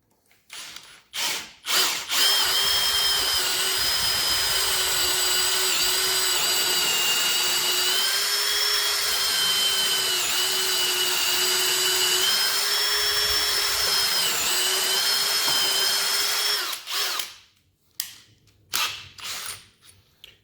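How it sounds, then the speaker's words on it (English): An Ozito 18V brushless hammer drill bores with a 10 mm bit, a loud steady whine holding for about fifteen seconds with a slight dip in pitch as it bogs, framed by brief clicks and handling noise before and after. "So now you can hear the drill starting to slow down just a little bit."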